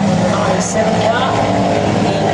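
A sprint car, number 97, runs on a dirt oval during hot laps and time trials, its loud engine roar filling the scene while a commentator talks over it.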